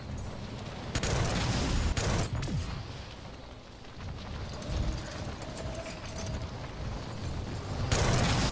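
Rapid gunfire from a player's gun in a multiplayer video game, in dense bursts with sharp loud volleys near the start and end and a busy mechanical clatter in between.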